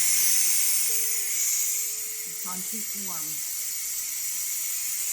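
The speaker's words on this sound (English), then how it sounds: "The food is done and we're letting the pressure vent." Steam venting from an Instant Pot electric pressure cooker after cooking a pot roast, a steady loud hiss filling the whole stretch, with a few short electronic beeps and a brief spoken remark partway through.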